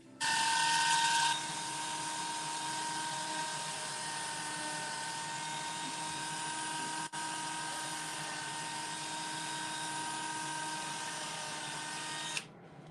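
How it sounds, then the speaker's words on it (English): A power drill whirs continuously and loudly as it bores small holes in a hardened orchid, a steady high motor whine with a brief catch midway before it stops. "Excuse the loud drill for like 30 seconds while I drill 4 little holes in these"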